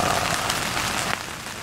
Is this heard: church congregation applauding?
no